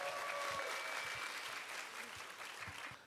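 Applause from an audience at a Jeju-dialect children's song festival, a steady even wash of clapping that holds throughout and tapers slightly near the end, fairly quiet and distant in a hall.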